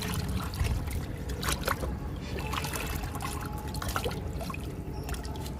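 Liquid fertilizer is poured onto garden plants and into a container, giving close, uneven splashing and trickling with gurgling bursts and a few knocks of the container.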